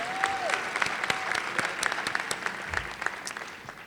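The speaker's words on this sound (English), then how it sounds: "Can we give her another round of applause," A crowd applauds steadily for a few seconds, dense clapping holding a fairly even level throughout.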